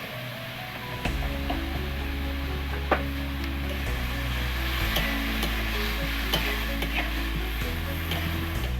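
Potatoes with salt and Kashmiri chilli powder sautéing in a pan, a steady sizzle with repeated scraping stirs of the spoon, close and moderately quiet, with no talking.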